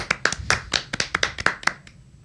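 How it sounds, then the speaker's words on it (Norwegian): A few people give a small round of hand claps, a dozen or so sharp, uneven claps close by that thin out and stop after about two seconds. "En liten applaus."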